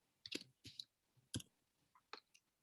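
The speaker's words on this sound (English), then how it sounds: "while I'm typing" A short burst of quiet, irregular keyboard typing, about half a dozen soft clicks and taps close by, with no voices.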